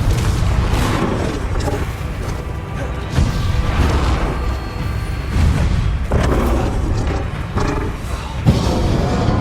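Bombarda spell explosions in the video game Hogwarts Legacy, heavy booming blasts bursting out of a dense, rumbling battle soundscape, with several sharp impacts landing a few seconds apart.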